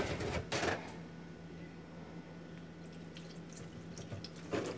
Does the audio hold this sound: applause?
no